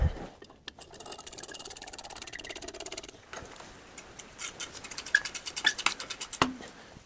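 A wrench ratchets quickly over bolts fitted with flat and lock washers on a Triumph TR4 exhaust manifold, making rapid rhythmic clicking in close bursts with short pauses between them.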